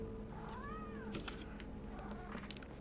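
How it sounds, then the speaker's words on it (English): A cat gives a single clear meow, rising and falling in pitch, over a quiet background with faint scattered clicks. "please stop meowing"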